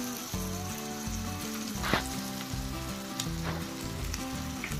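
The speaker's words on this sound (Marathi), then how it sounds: "त्या मसाल्याला तेल सुटेपर्यंत त्याला परतून घ्यायचं आहे" Ground whole spices, salt and red chilli masala sautéing in oil for chicken keema, a steady close sizzle with occasional stirring scrapes and soft pops throughout, no voices.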